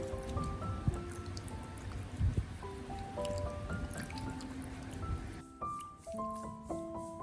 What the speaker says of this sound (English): I place both hands into a basin of water and wash them thoroughly